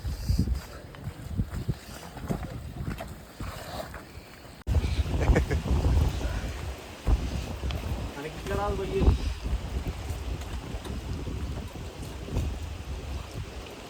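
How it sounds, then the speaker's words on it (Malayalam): Cold wind buffets the microphone during a downhill mountain bike ride on the Kallipara trails, a rough, gusty rumble that grows stronger partway through, with a voice talking over it. "നല്ല നല്ല കാറ്റുണ്ട് എൻ്റെ മോനെ, തണുക്കണ്. നല്ല തണുത്ത കാറ്റ്."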